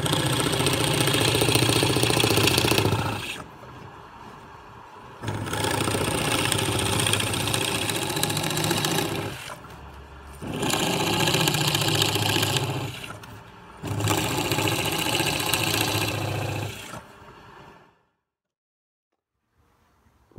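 A power tool drones as it cuts wooden plugs from recycled wood, in four sustained runs of a few seconds each, separated by short quieter gaps, ending in silence.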